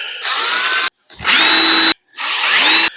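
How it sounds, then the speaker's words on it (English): Power drill boring pilot holes in wood, three bursts of whirring motor with the pitch dropping as each bit bites in, separated by short pauses, close and loud. "So now I need some pilot holes and I want to countersink them."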